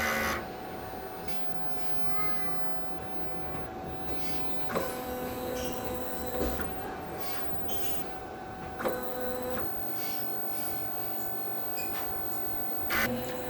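Inkjet printer running a print head cleaning cycle, a low mechanical whir with a steady hum, punctuated by several sharp clacks and brief sliding movements of the carriage at intervals, fairly quiet.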